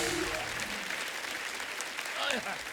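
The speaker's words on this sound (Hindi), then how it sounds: "जोरदार तालियां हो जाए हमारे मेहमानों के लिए" Studio audience on a Hindi comedy talk show applauding the arriving guests, a steady continuous wash of clapping throughout, with a faint voice briefly surfacing near the end.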